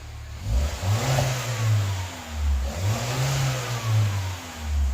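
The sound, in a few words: car engine revving with sport exhaust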